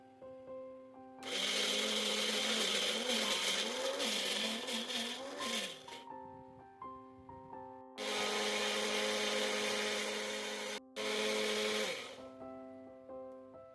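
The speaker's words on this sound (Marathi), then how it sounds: "आता सर्व साहित्य आपण मिक्सरच्या भांड्यामध्ये टाकणार आहे आणि बारीक करणार आहे" A mixer grinder blending paan leaves with milk whirs loudly in two bursts with a short pause between, then runs again briefly before stopping, a steady motor hum beneath.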